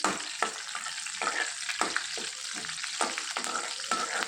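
Continuous crackling sizzle of curry leaves frying in hot oil, close by, with regular scraping strokes of a spoon stirring the pan.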